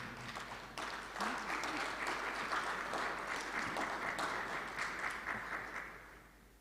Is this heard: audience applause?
yes